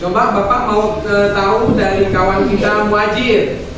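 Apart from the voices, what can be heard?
No everyday noises stand out.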